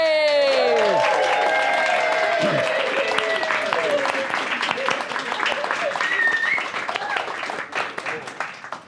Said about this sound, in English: please give a massive round of applause to our special guest panelists, Ken Cheng and Holly Musgrave